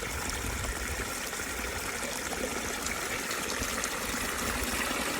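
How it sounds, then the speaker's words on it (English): A small waterfall in a rice field pours and splashes with a continuous broadband rush of water, steady and fairly close, with no voices. "spectacular small waterfall."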